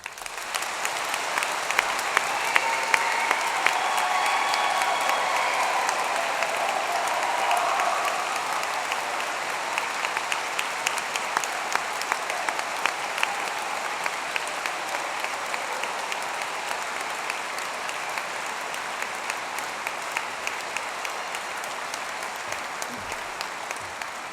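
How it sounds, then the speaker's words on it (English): A large audience at a university degree ceremony in Manchester applauds the graduates with sustained, steady clapping that fills the hall for over twenty seconds, easing slightly but continuing throughout. "let's start today's ceremony by giving all of these amazing graduates a huge round of applause"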